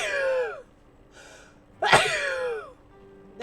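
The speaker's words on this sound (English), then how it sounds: "I'm gonna sneeze." A single sharp, loud human sneeze lands in the middle, set between a short gasping intake before it and a breathy vocal trail after it, with brief quiet gaps around.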